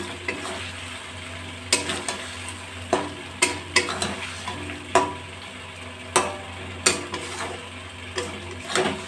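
Fried pointed gourd stirred in spiced oil in a pan, with a steady sizzle under a series of sharp spatula scrapes and clinks at irregular intervals, close and alone.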